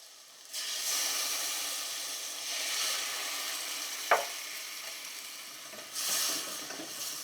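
Marsala wine is poured into a hot pan of food, with a steady broadband sizzle that swells when it hits, a sharp click partway through, then a fresh burst of hissing near the end; no voices.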